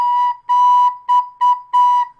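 A recorder plays a short five-note rhythm, three even notes, two quick ones and a final held note, clear and alone on a single pitch.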